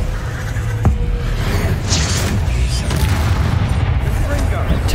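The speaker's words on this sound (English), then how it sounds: "Some explosive barrels going." Explosive barrels blowing up in the video game Hogwarts Legacy, a dense rumbling boom and crackle of blasts that fills the whole clip, loud and continuous with heavy low-end.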